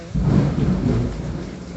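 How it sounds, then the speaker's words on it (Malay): Loud, close thunder rumbles through a rainy-season storm, a deep rolling roar that swells quickly, holds, then slowly tapers while steady rain hisses underneath. "Bunyi guruh kuat gila"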